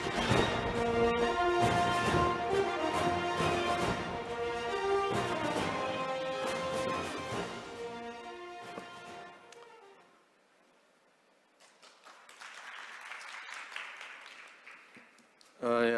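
Audience applause at a maritime forum welcomes a speaker, breaking out as a moderate, steady patter of clapping for a few seconds after the earlier music has faded out.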